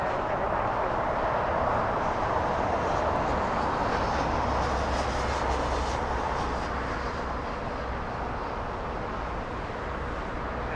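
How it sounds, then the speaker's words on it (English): A Boeing 787 Dreamliner airliner takes off at Los Angeles International Airport, a distant, fairly faint steady jet roar with broad rushing noise that holds and slowly eases, no talk. "That Dreamliner getting a move on."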